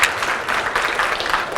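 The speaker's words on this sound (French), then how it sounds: "on peut l'applaudir" Conference audience applauding, a steady dense wash of many hands clapping at moderate level with no voices, brief and continuous throughout.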